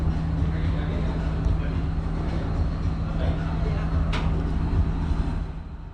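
A train rumbles near Idalgashinna station in Sri Lanka, a steady loud low drone with a constant hum throughout, a brief sharp squeal partway through, and fading slightly at the end.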